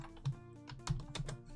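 Someone types on a German computer keyboard during Java programming, a few quiet clicks and a couple of firmer key taps spread irregularly over a second and a half, close and with no talk.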